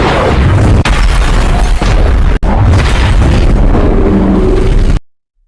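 Loud, sustained bomb blast in a film scene, a dense roaring boom with a couple of sharp cracks near the start and middle, rumbling continuously for about five seconds before cutting to silence.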